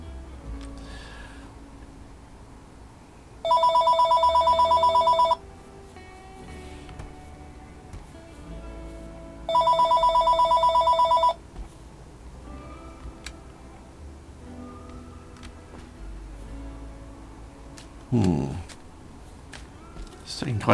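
A mobile phone rings in two loud, long electronic bursts several seconds apart, each a steady tonal trill, with a quiet background between them and a brief thump near the end.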